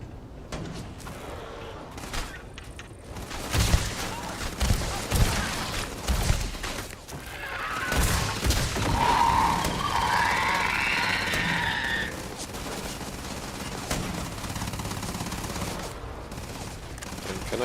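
Bursts of video game gunfire crackle in rapid volleys, mixed with clanks and impacts, with a sustained burst in the middle and a voice speaking briefly under the action.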